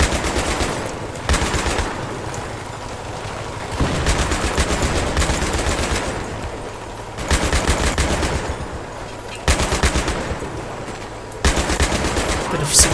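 Mounted machine gun firing in Battlefield 3, rapid sustained bursts hammering loudly in several long runs separated by short pauses, with game noise beneath.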